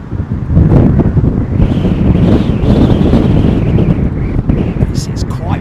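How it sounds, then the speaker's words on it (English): Strong, continuous gusting wind during Storm Nelson at Heathrow Airport, loud and close with heavy buffeting on the microphone, roaring steadily for several seconds with no talk. "It's quite breezy on the ground now"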